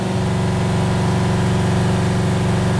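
An engine idles with its number two fuel injector disabled, a loud, steady, close-up rumbling drone with an even pulsing beat and no voices.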